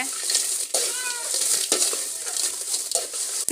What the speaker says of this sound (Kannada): ಬ್ಯಾಡಿಗೆ ಮೆಣಸಿನ್ಕಾಯಿ ಒಂದು ಅರ್ಧ ಕೆ ಜಿ ಅಷ್ಟು ತೊಗೊಂಡಿದ್ದೀವಿ ಅದನ್ನು ಹುರ್ಕೊಳ್ತಾ ಇದ್ದೀವಿ ಎಣ್ಣೆ ಸ್ವಲ್ಪ ಸ್ವಲ್ಪ ಹಾಕ್ಕೊಂಡು